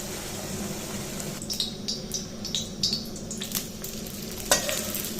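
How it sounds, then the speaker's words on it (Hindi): Puri frying in hot oil, a steady close sizzle and bubbling with a few sharper crackles and spatters as the dough puffs, no voices heard. "अभी देखना कि हम अपना अगला पूड़ी डालेंगे तो ये कितने बढ़िया तरीके से ये फूल जाएगा।"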